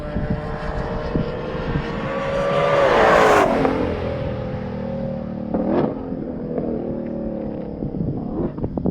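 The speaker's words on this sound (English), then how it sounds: "And the Shelby finishing up his second of 3 laps as Eric or Tracy in the Boxster zip through," Race cars, including a Shelby and a Porsche Boxster, passing on a track, one engine swelling loud then dropping in pitch as it goes by, with more passing engine roar following.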